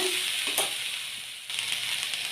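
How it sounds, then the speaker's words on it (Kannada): Food fries in a pan on a home stove, giving a continuous, close, even sizzling hiss with no talking. "ಇದು ನೋಡಿ ಫ್ರೈ ಆಗ್ತಾಯಿದೆ."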